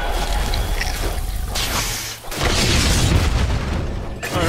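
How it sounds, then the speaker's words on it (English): Dire middle tower collapsing in Dota 2, a heavy booming rumble with crumbling debris, a brief dip midway, then a second loud surge of destruction noise. "Dire's middle tower has fallen"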